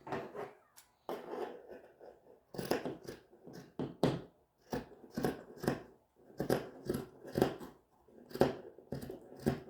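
Scissors snip through fabric while a sleeved top is cut out, giving short crisp cuts in uneven bursts, close and fairly clear, with no talking.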